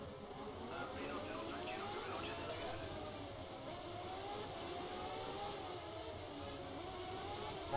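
Formula 1 car engine in the F1 Challenge video game, a steady high-pitched whine with shifting revs through a final corner, continuous and loud throughout with speech over it.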